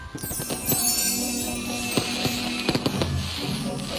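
Fireworks at a City Hall Christmas display reveal pop and crackle in irregular bursts, with several sharp bangs over a continuous hiss and rumble.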